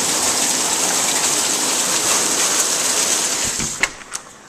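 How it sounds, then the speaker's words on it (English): Hail pelts a car in a dense, continuous hiss of impacts, with a couple of sharper, louder hits near the end and no speech. "you're not getting bombarded by hail"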